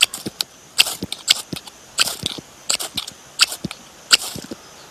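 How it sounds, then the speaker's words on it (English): Repeated sharp scraping strikes of a clip-out fire steel against a knife blade to throw sparks, a quick irregular series of crisp rasping clicks up close. "a simple watertight clip out fire steel, and that then fits with the blade to create sparks"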